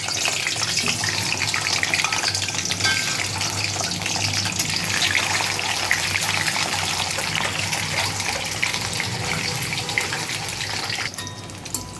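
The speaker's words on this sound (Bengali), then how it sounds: "আগে ডিমটা ভেজে নেব।" Eggs fry in hot oil in a wok, giving a loud, steady, close sizzle that crackles without a break for the whole stretch and eases slightly near the end. No one speaks.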